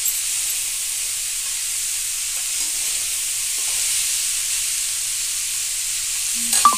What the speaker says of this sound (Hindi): प्याज, अदरक, लहसुन, हल्दी और मिर्च के साथ इसे लगातार चलाते रहिएगा